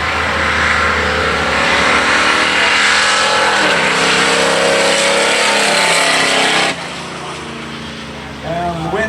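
A Mustang drag racing car accelerates hard down the strip, its engine roaring loudly and rising in pitch before cutting off abruptly. The engine noise is followed by quieter ambient sound.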